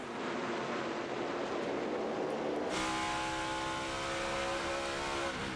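NASCAR Nationwide Series race cars at Loudon roar as they accelerate on a restart, a broad, sustained engine rush, followed by rising, harmonic-rich revving as the field pulls away.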